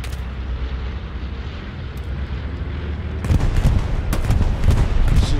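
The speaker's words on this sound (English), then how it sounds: "This is a friendly bomb and run." Friendly bombing run in the Hell Let Loose video game set at night, with a low continuous rumble that swells midway into loud overlapping explosion booms and cracks.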